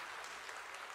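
A church congregation claps briefly for a child and a deacon who gave testimonies, a short, steady patter of applause heard on its own.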